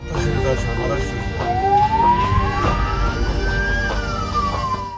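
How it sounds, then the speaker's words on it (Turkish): An ambulance siren wails, sweeping upward and holding, loud over busy traffic noise in Ordu, Turkey, with a faint voice in the background. "acil bir durumda olan ambulansın siren sesini duyunca"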